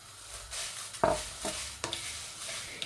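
Black pepper and dried chillies are dry-roasted in a pan, giving faint stirring scrapes and a few sharp clinks of a spoon against the pan, close and quiet, with no talking.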